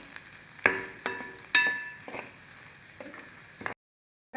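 Finely chopped onion with curry leaves sautés in a pan for matki usal, a soft, fairly quiet sizzle marked by several sharp clinks and scrapes of stirring before cutting to silence.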